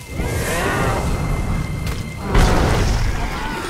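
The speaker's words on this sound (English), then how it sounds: "Set the moose on fire, Jack." Booming fire spell impacts and whooshes hit a moose in the fantasy game Guild Wars 2, dense and loud, with a heavier blast partway through, while players talk over the action.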